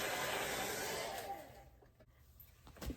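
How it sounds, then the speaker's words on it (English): A handheld hair dryer blows with a strong, steady whooshing roar that fades and cuts off midway, followed by quieter room sound and a brief click or bump near the end. "I'm gonna go ahead and get my hairdryer and dry this."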